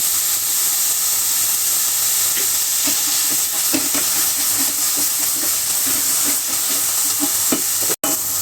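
Bitter gourd pieces frying with softened onion in a pan, giving a steady close sizzle and hiss with occasional soft stirring scrapes and one sharp click near the end.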